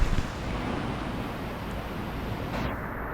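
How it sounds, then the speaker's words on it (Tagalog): Rushing water near Hulugan Falls on a hike in Pililla, a steady broadband roar heard close and continuous for about three seconds, with a bit of wind noise on the microphone. "Very relaxing pakinggan ang tunog ng tubig."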